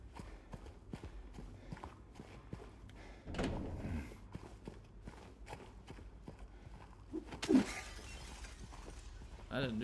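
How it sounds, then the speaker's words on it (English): Glass shattering in the video game Silent Hill 2, a sharp crash heard distant and muffled amid quiet ambience and rhythmic footsteps, with a second brief burst later. "I heard that shatter like 2 rooms away"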